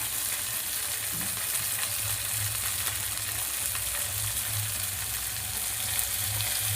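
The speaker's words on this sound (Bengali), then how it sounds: "কাঁচা লঙ্কা দিয়ে দিলাম," Green chillies frying with onions in a hot wok for chilli chicken, giving a steady, close sizzle that runs unbroken for several seconds, with soft stirring scrapes now and then and no voices.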